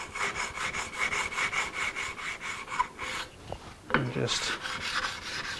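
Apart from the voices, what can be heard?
sanding block rubbing a guitar fretboard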